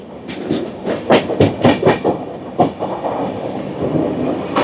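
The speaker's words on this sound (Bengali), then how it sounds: "ট্রেন এখন ভালোই স্পিডে যাচ্ছে" A Duronto Express on the Howrah–Bhubaneswar run near Santragachi Junction rolls at speed, loud close clickety-clack of wheels over rail joints in quick rhythmic bursts above a steady rumble.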